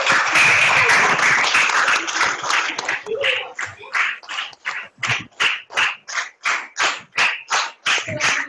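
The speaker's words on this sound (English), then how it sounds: "Can everyone give you a big round of applause" Rotaract Club installation ceremony audience applauding the 45th-year logo launch: a dense wash of clapping under crowd noise fades into a small group's slow, evenly spaced individual claps, close and distinct.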